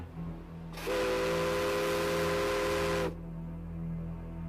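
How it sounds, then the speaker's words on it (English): Old tugboat steam whistle blown in one long, loud, steady blast of about two and a half seconds, cutting off cleanly over a constant low engine hum. "simple thing like this, the old whistle, everybody had one."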